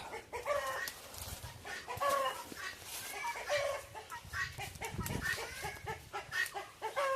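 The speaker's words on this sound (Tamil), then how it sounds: "கிண்ணி கோழி கற்றுது பாருங்க" Guinea fowl and chickens call and cluck repeatedly nearby, with overlapping squawks and chatter from several birds.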